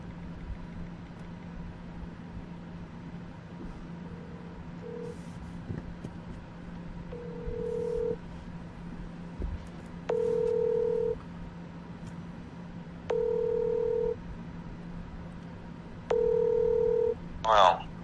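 Telephone dialing on a phone call being connected: a few short keypad beeps, then a steady ringback tone repeating about every three seconds as even, moderately loud bursts over a low background hum.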